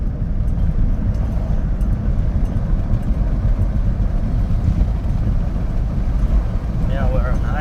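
A DIY BMW electric-vehicle conversion with automatic shifting drives along back roads, a loud, steady low road-and-cabin rumble throughout, with a faint whine rising and dipping in pitch near the end as it shifts up.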